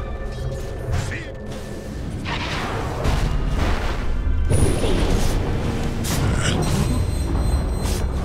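Dota 2 tower collapsing in a loud crumbling boom that swells around the midpoint, layered with game effects and a constant clatter of battle, staying dense and loud to the end.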